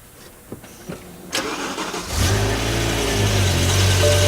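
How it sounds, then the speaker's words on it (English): A BMW M5 V10 engine starts up: a few quiet clicks, then the starter cranks and the engine catches with a loud, deep roar that settles into a steady, rumbling idle close by. "Listen to that V10 rumble to life"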